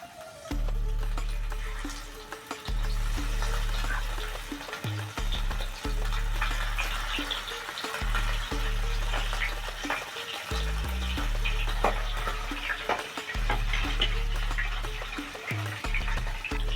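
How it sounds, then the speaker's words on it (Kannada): Bangda mackerel shallow frying in hot oil, a loud continuous crackling sizzle with repeated bursts of spatter and stirring clatter, steady and close throughout with no talking. "ಈಗ ಫಿಶ್ನ ನಿಧಾನವಾಗಿ ಎಣ್ಣೆಗೆ ಬಿಡೋಣ."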